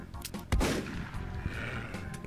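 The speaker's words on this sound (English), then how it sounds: "It's like, really old, shitty shotgun that's like... You can barely use it." A worn-out old shotgun fires in the classic shooter Doom, one sharp, loud blast followed by a rumbling decay and low game ambience, with no talk over it.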